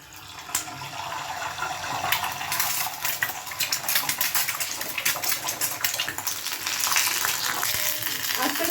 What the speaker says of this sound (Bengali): আমার তেলটা গরম হয়ে গেলে আমি আস্তে আস্তে করে ডিমটা আমি ফ্রাই করে নেব।